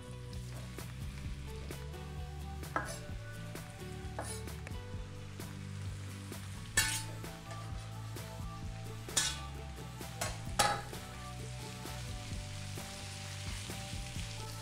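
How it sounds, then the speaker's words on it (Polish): Steady sizzling of onion frying in oil in a pan, with occasional clinks and scrapes of a utensil against the cookware. "wlewam trochę oleju, bo będę smażył to wszystko na oleju"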